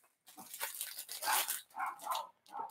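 A dog barks in a few bursts of moderate loudness nearby, with roomy, broadband yelps and no talk over them.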